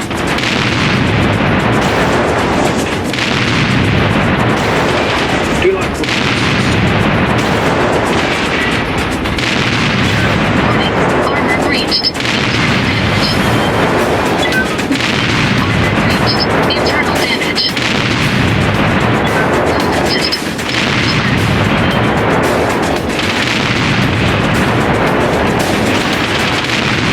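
Mech weapons fire in MechWarrior Online, a loud, dense run of heavy booming shots and blasts repeating every few seconds over a continuous rumbling roar.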